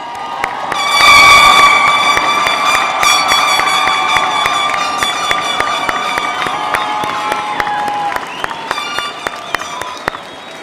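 A large crowd at a college commencement ceremony cheers, stomps and applauds loudly, a dense wash of clapping and yelling that swells early and then carries on steadily to the end.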